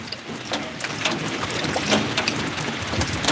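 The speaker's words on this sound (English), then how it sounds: "Yeah, you cannot really see the rains." Rain falls steadily in the dark at night, a dense hiss of drops spattering on surfaces with scattered louder taps, close and continuous.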